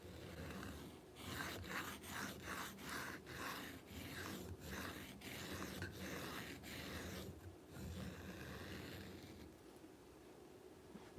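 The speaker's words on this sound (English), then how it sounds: "This is my happy place, sharpening my knives." A knife is drawn across a sharpening stone in a run of rhythmic, evenly spaced strokes, each a short gritty scrape, fairly close but quiet, followed by a pause and a few slower strokes.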